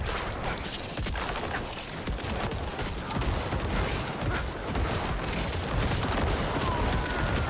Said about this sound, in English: It's a corpse explosion.